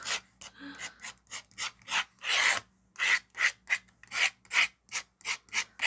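Rhythmic scratching and rasping strokes on glossy cardboard packaging, a dozen short bursts at a quick, uneven pace, close and fairly quiet.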